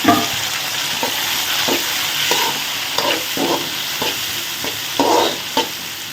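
Onions fry in hot oil for kara kuzhambu as tomatoes are added, a loud steady sizzle close by, broken by a few scraping stirs of a spoon in the pan.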